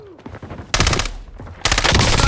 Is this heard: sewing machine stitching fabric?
no